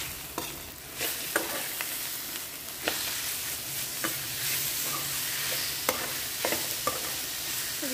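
Onions and chopped banana flower being stirred in a hot pan for a traditional curry, a steady low sizzle broken by sharp scraping strokes of the spoon against the pan every second or so.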